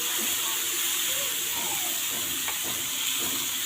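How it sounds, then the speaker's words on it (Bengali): Curry sizzles in a pan as it is sautéed for a Bengali sour dish of morola fish, making a steady close hiss with faint clinks and light scraping throughout. "এটা খুব ভালোভাবে আমি এখন এটা কষাই নেব। খুব ভালোভাবে কষাবো।"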